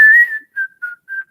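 A person whistles a short tune, one long sustained note followed by three brief clipped notes with small gaps between them, clear and close with no talking.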